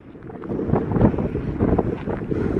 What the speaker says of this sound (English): It's still really, really windy.